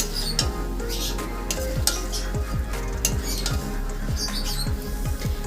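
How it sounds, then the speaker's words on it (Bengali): Spice paste with pumpkin, cauliflower and green chillies is stirred in a hot pan, a quick regular rhythm of scraping spoon strokes over a constant sizzle, close and fairly loud. "এবারে খুব ভালোভাবে মশলাটার সঙ্গে মিশিয়ে নেব একটু সময় নিয়ে"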